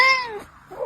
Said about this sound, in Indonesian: Penyebab, kucingmu mengeong terus